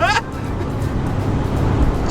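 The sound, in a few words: Transit van driving at high speed on motorway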